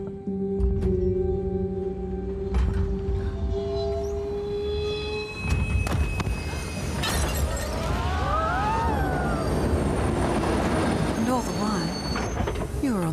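Train ride ambience in a broadcast advert: steady rumbling rail noise with rattling carriage sounds and a brief squeal of wheels, running continuously and fairly loud, with a voice talking over it.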